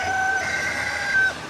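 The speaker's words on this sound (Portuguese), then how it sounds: "Com esse barulho de galo, com o mar." A rooster crows by the sea: a single drawn-out, wavering call, somewhat distant, over soft steady background noise.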